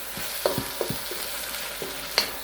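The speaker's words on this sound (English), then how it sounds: "Keep on sauteing" Shrimp and zucchini sauté in a stir-fry pan with a low, steady sizzle, punctuated by a few scattered clinks and scrapes of a utensil against the pan, with no speech.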